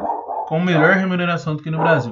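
A dog barks and yips in short bursts close by while a person speaks over it.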